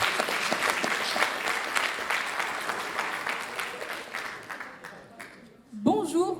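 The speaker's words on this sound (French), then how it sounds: "J'aimerais un tonnerre d'applaudissements maintenant pour notre dernier candidat," Loud, sustained applause from the audience at a book prize award ceremony greets the final candidate, dense at first and then tapering into scattered claps before a voice speaks at the end.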